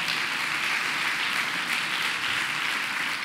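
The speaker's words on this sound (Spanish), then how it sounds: "Dele un fuerte aplauso al Señor." Congregation at a church service applauding together, a dense, steady wash of clapping that fills the whole stretch evenly without pause.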